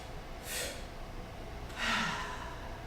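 Chair yoga breath work: two short, quick sips of air drawn in, then one longer audible exhale through the mouth, close and soft, with no talking.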